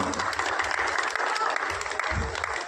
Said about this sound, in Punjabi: ਇਹਨਾਂ ਦੇ ਨਾਂ ਤੇ ਤਾਲੀਆਂ ਲੋਕਾਂ ਦਾ